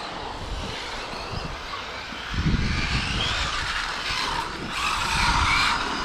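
A Serpent 811GT LWB nitro-style RC car on an 8S 1500kv electric setup brakes and skids, a loud close whine dropping into a broad scraping tire slide, with the motor surging again near the end.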